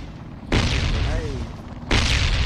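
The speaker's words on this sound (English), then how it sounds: "He's chucking nades" Grenade explosions in the Ring of Elysium battle royale game land as two loud, broad blasts in quick succession, each followed by a rumbling tail, with voices speaking over the gameplay.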